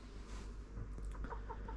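Chickens clucking softly in a barn, a scattering of short clucks over a steady low background hum.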